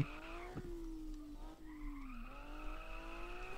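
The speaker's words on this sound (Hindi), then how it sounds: "इसका भी एग्जॉस्ट का साउंड बहुत ही फाड़ू है भाई" Car exhaust in the video game Car For Sale Simulator 2023, a steady revving engine drone that rises and dips in pitch, with a brief tyre screech, loud and continuous with no talk.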